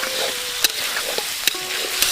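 Vegetables frying in a hot wok in a village kitchen, a steady close sizzle broken by a few sharp scrapes and clinks as they are stirred; no one speaks.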